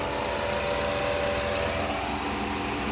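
Ford Taurus SHO engine idling steadily after a second startup with the AC running, a constant close mechanical hum and whirr with no speech.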